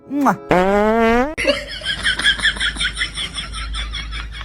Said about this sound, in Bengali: ইফতারে ভাজা পোড়া খাওয়ার পর যখন পাদ আসে